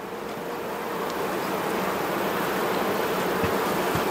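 Honeybees hum around an open hive during an inspection, with new frames set between old ones. The buzzing is a steady, close, continuous drone with no pauses.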